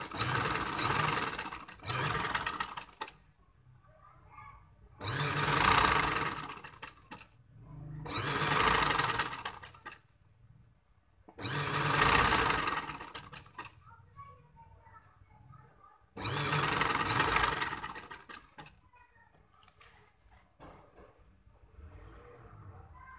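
A domestic sewing machine stitches a neck placket on a garment in bursts of steady whirring, five runs of a few seconds each separated by quiet pauses, heard close and alone.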